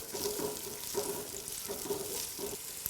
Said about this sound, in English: go ahead and toss in your onions. We're gonna soften those a little bit.